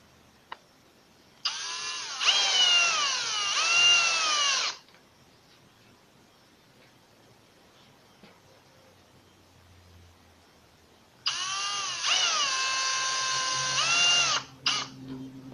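A power drill drives half-inch self-tapping screws into wood while a table is built, in two loud whining bursts of about three seconds each, with the motor pitch rising and falling and a quiet pause between the bursts.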